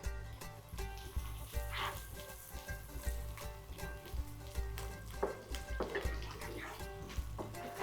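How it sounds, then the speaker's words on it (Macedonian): Ingredients fry in a pan for a bean dish, a continuous soft sizzle with occasional utensil taps and clinks, heard close and fairly quiet. "Додека ова си се пржи"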